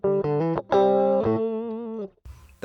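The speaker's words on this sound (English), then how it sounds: "That is a genuine lo-fi sound." A Sonicake Wave Crush pedal processing a guitar into a gritty lo-fi bitcrushed tone, with choppy sustained notes and a rough, distorted texture fading into a brief noisy tail.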